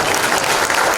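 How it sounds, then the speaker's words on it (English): Conference audience clapping at a university keynote, dense loud applause from many hands filling the whole moment without pause. "Can you give a big clap again?"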